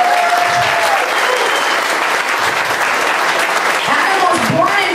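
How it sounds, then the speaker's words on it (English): Loud, continuous applause from an audience at a political gathering fills the stretch, with faint voices mixed in beneath the clapping. "Let's give that a round of applause"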